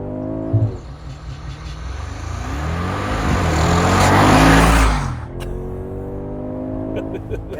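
A 2025 Mercedes-AMG G63 V8 launching under launch control, the engine swelling from a rumble into a loud rising roar for several seconds before easing off, with people talking inside the cabin.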